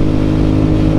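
Supercharged Kawasaki H2 motorcycle engine revs loudly and steadily up close, a dense continuous drone with a strong low rumble filling the whole second, no voices.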